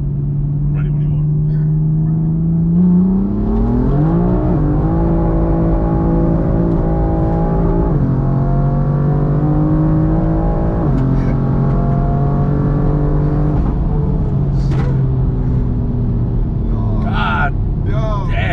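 BMW F82 M4 with an upgraded turbo pulling hard in second gear, a loud close engine note climbing steadily through the rev range with several quick shift-like steps, then excited shouting from the occupants near the end.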